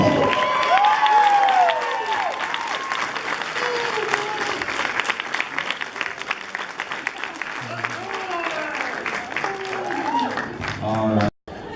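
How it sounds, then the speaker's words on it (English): Loud, sustained applause from a crowd at an anime convention event, dense clapping with some cheers and voices mixed in, cutting off abruptly near the end. "Round of applause for the happy couple."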